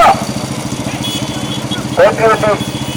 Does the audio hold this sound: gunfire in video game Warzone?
no